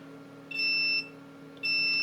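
Repeated high electronic beeps from a quadcopter ESC under test, with one bad MOSFET: two steady tones, each about half a second long, sounding a second apart over a low electrical hum.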